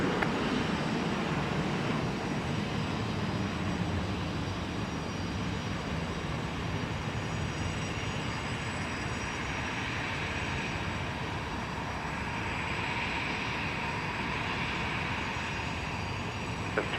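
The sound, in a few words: aircraft taking off from runway 12 right, Minneapolis–St. Paul Airport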